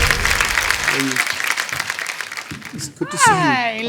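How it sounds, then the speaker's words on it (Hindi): Studio audience applause on a Hindi TV comedy talk show, a dense wash of clapping through the first half that fades under a music sting and voices toward the end. "अबे ओए ठोको ताली"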